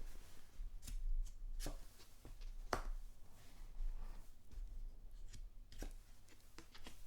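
Playing cards are dealt at a blackjack table in quiet close detail: soft slides, flicks and sharp little snaps land one by one at an unhurried, irregular pace over a faint background hush.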